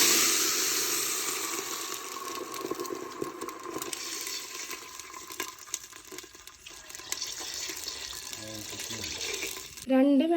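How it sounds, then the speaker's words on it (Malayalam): Water is poured into a pan of frying spices, a rushing splash and bubbling that hisses loudly at first, then settles into a lower bubbling before a brief clatter at the end. "അപ്പം നമ്മൾ കുറച്ച് വെള്ളം ഒഴിച്ചു കൊടുക്കും"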